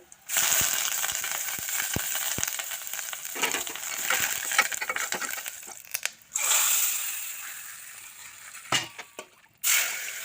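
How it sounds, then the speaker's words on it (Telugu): Dried red chillies for tomato rasam crushed by hand, giving dry, crackly rustling and crunching bursts close up that run for several seconds, break off briefly and resume, with no talking. "నాకు ఇట్లా అలవాటు అండి చారులో మిరపకాయలు ఇట్లా నలిపేది"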